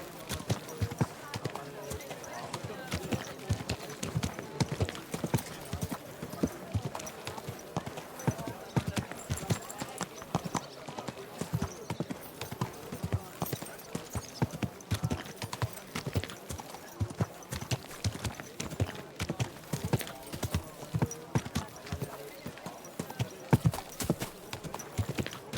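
Horse hooves clip-clop in a steady walking rhythm throughout Kingdom Come: Deliverance II, up close and continuous, with occasional voices talking over the plodding.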